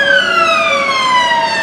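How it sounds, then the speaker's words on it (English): An ambulance siren wails loud and close, its steady tone gliding slowly downward and sounding alone for under two seconds. "That's why those ambulances running to and fro."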